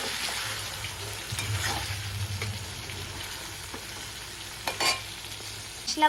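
Spice paste mixed with grated tomato fries in a pan for a vegetarian chhana kofta curry, a soft continuous sizzle with intermittent stirring scrapes and a few utensil knocks near the end.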